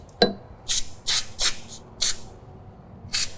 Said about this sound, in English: we're going to go ahead and shoot some grease right around in here and on the bottom side